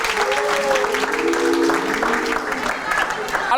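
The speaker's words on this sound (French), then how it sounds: "Sous vos applaudissements, mesdames et messieurs." Audience applause at a lively team game show, a steady wash of clapping held for several seconds with voices and tonal sounds running over it.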